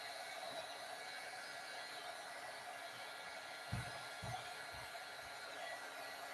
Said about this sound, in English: The heat gun is probably melting the glitter.